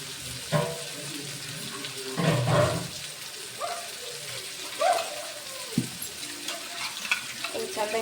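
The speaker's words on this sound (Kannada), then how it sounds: "ಈ ಮಿಕ್ಸಿ ಜಾರ್ ತೊಳ್ಕೊಂಡು ನೀರು ಹಾಕೋತೀನಿ ರೀ ಅದಕ್ಕೆ" A mixer jar rinsed with running water in a home kitchen while a pan of brinjal masala sizzles nearby; splashing water and clinks come in short bursts over the steady frying hiss.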